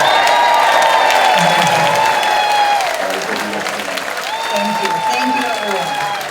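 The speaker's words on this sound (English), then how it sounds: "Cheer for Debbie." Audience at a Democratic Club of The Villages gathering breaks into sustained applause and cheering, loud and steady throughout with scattered whoops over the clapping.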